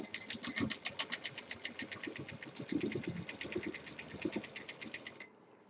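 A sewing machine stitches purse pieces together in a steady, rapid run of needle clatter lasting several seconds before stopping, close and fairly quiet, with no talk.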